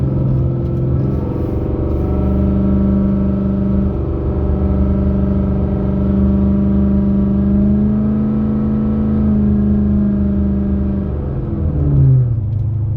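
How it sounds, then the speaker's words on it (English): Cammed LSX-swapped 2004-2006 Pontiac GTO idling and rolling with a loose torque converter, a loud, close, steady low engine drone whose pitch shifts and then settles as the converter goes into lockup near the end. "listen to this converter"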